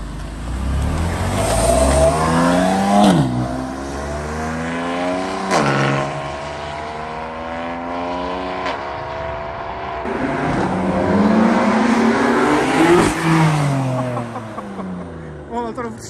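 A BMW M3/M4 twin-turbo engine with a front-mounted VRSF intake revs hard through repeated rising and falling pulls as the turbos build boost, loud and close, with a brief pause between runs.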